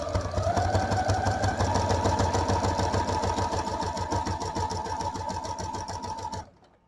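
A sewing machine that isn't the usual Janome stitches a see-through project pouch, humming loud and steady with a fast rapid needle rhythm for about six seconds, then stopping abruptly.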